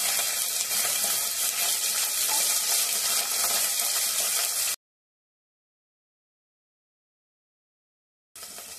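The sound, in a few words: cauliflower frying in ghee in a wok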